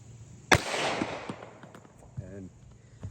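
A single sharp gunshot from an Alchemy Arms Spectre pistol fired at a steel target outdoors, followed by a short decaying ring and faint sounds afterward.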